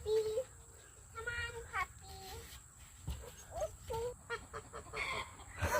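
Chickens and turkeys on a farm, scattered clucks and gobbling calls coming in short irregular bursts, fairly faint, with a person speaking at times nearby.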